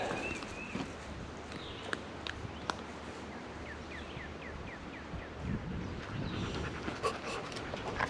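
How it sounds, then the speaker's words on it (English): A dog pants quickly and rhythmically outdoors on a rural property in spring, faint and somewhat distant, under wind, rustling and occasional footfalls, with a few bird chirps. "And there's the dog."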